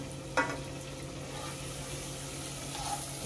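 Garlic, onions, scallions and green pepper frying in oil for a curry oxtail dish, a steady soft sizzle with a sharp clink of a spoon near the start.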